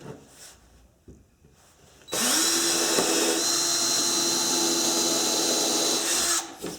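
A power drill with a 1/8 inch bit bores into wood, starting after a quiet lead-in and running as one loud, steady whine for about four seconds before stopping.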